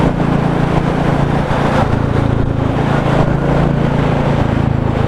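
Royal Enfield Classic 350 motorcycle, 2022 Halcyon Green, riding on open road: a steady, continuous engine drone with wind rush, constant and fairly loud throughout, no voices.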